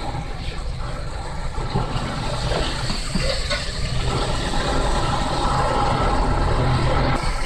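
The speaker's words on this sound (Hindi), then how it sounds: "अब हम इसमें थोड़ा सा पानी डालेंगे।" Water pours steadily into a cooking pot of roasted potatoes, a continuous rushing hiss with a low rumble that holds level for several seconds.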